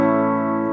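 An electric guitar chord rings through an Epiphone Valve Junior tube amp with the tone dial set fully to bass, a short, warm, dark sustained strum, close and alone.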